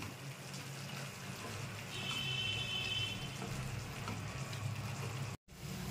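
Lote fish with potatoes stirred over low heat in a pan, giving a steady broadband frying hiss and scraping that runs throughout, with a brief dropout near the end.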